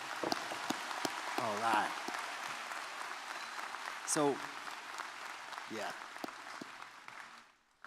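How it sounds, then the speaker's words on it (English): Crowd at the 2023 Wellington High School graduation ceremony applauding the graduates, a dense, steady wash of clapping lasting the whole stretch before fading, with a voice speaking over it. "please join me in a huge round of applause for these amazing graduates"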